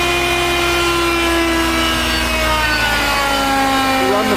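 A steady, loud mechanical drone from the fire pump and air compressor on a Darley 75-foot CAFS quint fire truck runs continuously with tonal whine and no pauses.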